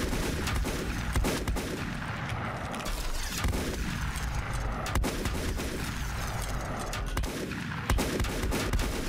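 Enemy gunfire in the video game Volcanoids, a dense, continuous barrage of overlapping shots and booming blasts with no gaps, loud throughout and mixed with a steady mechanical rumble.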